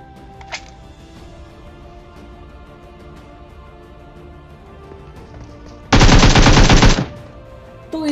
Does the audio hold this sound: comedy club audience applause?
no